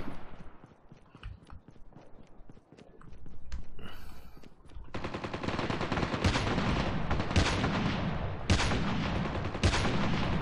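Call of Duty Mobile Battle Royale gunfire: scattered shots early on, then a dense, sustained burst of rapid automatic fire with sharp louder cracks, continuous and close.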